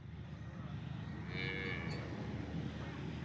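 Local Banaskantha cows on a farm, one giving a single moo in the middle over steady low rumbling background noise, with no talk.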